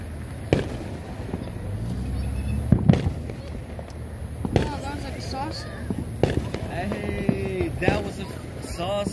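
A saucer-type firework goes off at a family Fourth of July gathering outdoors, giving repeated sharp bangs and crackles along with whistling, swirling tones, with people talking throughout.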